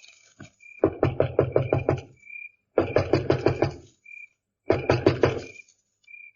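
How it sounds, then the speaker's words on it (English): Three bursts of sharp rapid knocking on a door, radio-drama style, each a run of about five or six quick raps separated by short pauses, close and loud with a faint high tone between. "I'll go knock on the door."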